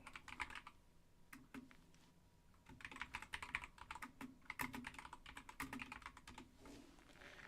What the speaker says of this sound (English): I'm going to type this in chat